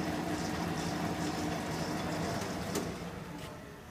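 LeBlond 13-inch by 20-inch engine lathe running in reverse: a steady, quiet mechanical whir and hum of the machine, constant throughout and fading slightly at the end, with no talking.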